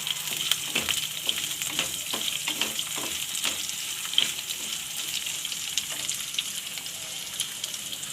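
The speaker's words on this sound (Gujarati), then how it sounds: "હવે આપણે એમાં ગાજર નાખી દેવું ગાજરને આપણે ઘડીક વાર તેલમાં સડવા દેવું" Carrots frying in oil for corn upma, a steady close sizzle broken by repeated light clicks of a spoon stirring through the pan.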